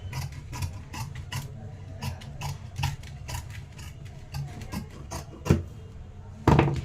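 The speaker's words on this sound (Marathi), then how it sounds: "आता हे आपल्याला कटिंग करून घ्यायचं आहे" Fabric neckline being cut for sewing, heard as a close series of rasping, crunching snips in an irregular rhythm, with a louder burst near the end.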